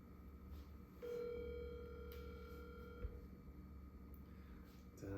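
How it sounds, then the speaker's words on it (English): A phone call rings out over speakerphone, a steady electronic ringback tone lasting about two seconds, fairly faint, with a low background hum and a small knock near the end. "It's ringing."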